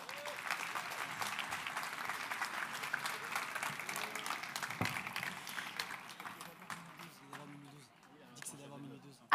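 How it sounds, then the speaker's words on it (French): A crowd applauds steadily, dense clapping filling the room throughout, with some voices mixed in and the applause thinning slightly near the end. "Et Jean-Pierre Gou, je vous demande de l'applaudir très, très fort."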